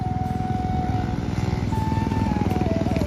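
A motorbike ridden by a child who has only just learned to ride, its engine running close by with a rapid, regular putter and a slowly shifting engine tone, steady and fairly loud with no talk.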